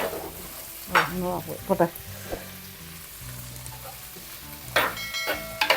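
Two green chillies sizzle and fry in a pan while a spoon stirs them, a steady crackle with a few scraping stirs, and a brief voice joins at one point.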